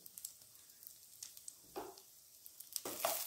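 Cumin, ginger garlic paste, turmeric and chili powder fry quietly in a pan for fish tikka masala, giving a faint sizzle broken by soft stirring scrapes and a couple of louder bursts of hissing.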